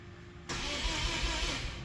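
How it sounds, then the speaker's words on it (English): A Mazda RX-8 with a 13B rotary engine cranks on the starter, a loud, dense whirring burst that starts suddenly and runs steadily for over a second, close to the car. "Now we want to make sure we've got some crank."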